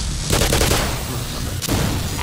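Rapid gunfire from weapons in the video game Black Mesa: a sustained loud burst of shots, a brief break, then more firing, with no talk over it.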